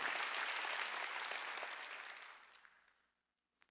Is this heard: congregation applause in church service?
yes